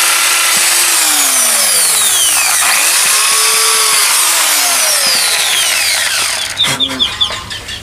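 Power drill boring a hole into wood outdoors, a steady loud whirring with pitch sweeps as the bit bites and slows, ending in a few short bursts of clatter.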